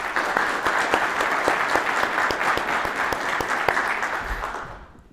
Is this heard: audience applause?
yes